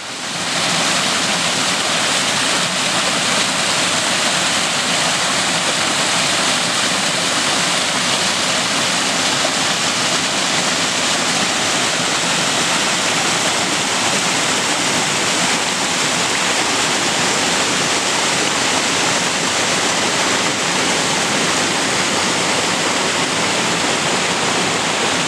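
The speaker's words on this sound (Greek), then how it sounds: "υπάρχουν άφθονα νερά στην πηγή, η οποία κατεβαίνει από κάποιο πολύ ψηλό σημείο" Abundant water from the Neromana spring near Patras pours down from a high point, a loud, steady, close rushing roar that continues unbroken throughout with no voices.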